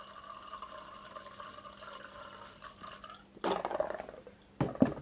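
Water poured into aviation fuel in a glass density bottle, giving soft dripping and a short burst of fizzy bubbling near the end, fairly quiet and close.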